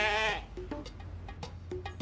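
A man imitates a sheep's bleat, a single wavering, nasal bleat that opens loud and close, followed by short sounds from the room.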